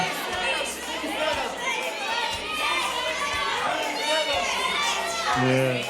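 A television game show's studio audience calls out price guesses for a quad and a trip to Athens, a loose overlapping chatter of many voices shouting at once, with a host speaking over them.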